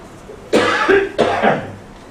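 Two harsh, close coughs in quick succession, each a sharp burst that trails off, with no talking.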